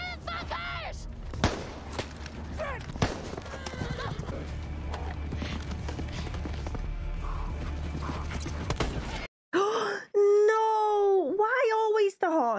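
In a scene from the TV series The Last of Us, hooves clip-clop over a noisy rumbling scene with sharp knocks, then after a short gap a horse whinnies loudly in clear, rising cries.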